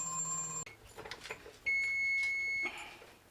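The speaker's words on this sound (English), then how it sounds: "Okay, you can hear the timer going off." A kitchen oven timer goes off after baking no-knead cinnamon raisin bread in a Dutch oven, sounding a steady, loud electronic beep for about a second amid quiet kitchen noises.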